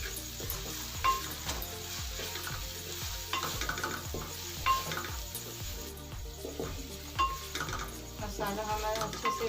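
Spices stir-fried with softened tomatoes in a pan, a low sizzle under repeated rhythmic stirring and scraping strokes, with occasional light clinks of utensil on metal.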